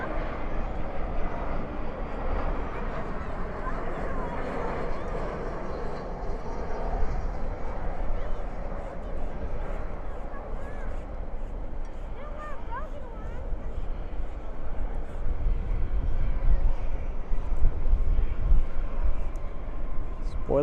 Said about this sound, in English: Spoilers up, reversers out on this A321.